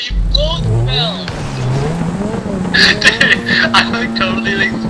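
A car in GTA 5 Online spins out of control, engine whining and tires squealing in sweeping pitch changes, loud and close, with people talking over it.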